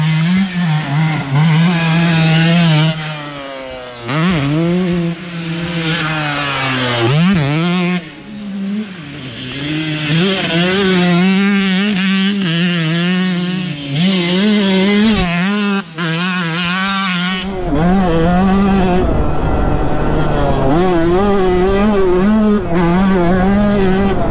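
Two-stroke motocross bike ridden hard around a dirt MX track with jumps, its engine loud and close, revving and shifting up and down through corners with brief throttle drops and sharp climbs, running continuously throughout.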